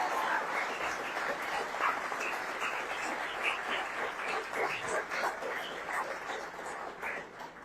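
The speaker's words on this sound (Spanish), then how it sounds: "Ese aplauso que sea fuerte para Cristo." A church congregation applauds during a sermon: dense, steady clapping from many hands fills the whole stretch at an even, fairly loud level, with no clear pauses.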